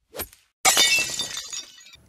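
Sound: window glass smashing

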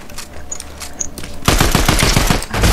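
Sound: gunfire in video game Fortnite

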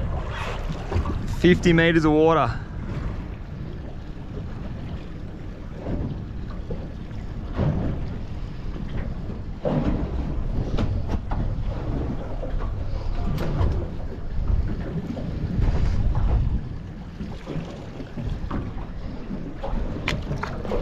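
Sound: boat engine running

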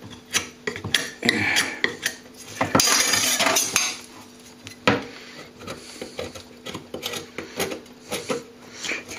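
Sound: scraping old plaster off a cornice

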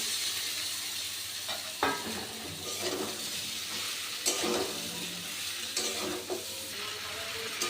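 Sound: stir-frying jackfruit and fried potatoes with spice paste

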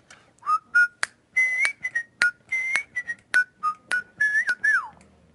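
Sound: person whistling a tune

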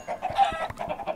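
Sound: chickens clucking in a video game

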